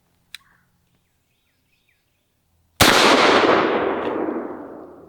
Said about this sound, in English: let's kick it up to a 1-ounce slug out of the Panzer Arms Benelli M4 clone